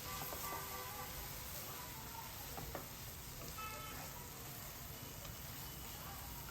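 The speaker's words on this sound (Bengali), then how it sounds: "এখন এই যে খুব ভালোভাবে মশলার সাথে কষিয়ে নিচ্ছি।" Chickpea dal with spices being stirred and fried in a pan for a lunch curry with chicken and egg; a faint, steady sizzle with soft stirring scrapes runs throughout.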